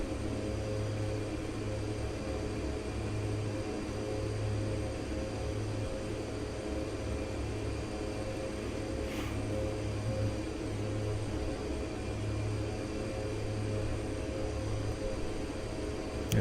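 Steady airplane engine drone in a flight simulator game at cruise around 140 knots, a faint even hum with a low pulsing throb running continuously, no talking.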